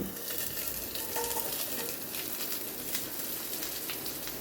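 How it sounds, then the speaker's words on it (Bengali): Onions and tomatoes fry in a pan on high flame and are turned over, giving a steady, close sizzle with soft scraping stir sounds throughout. "পেঁয়াজ, টমেটো ওগুলোকে একটু ওলট পালট করে নেব"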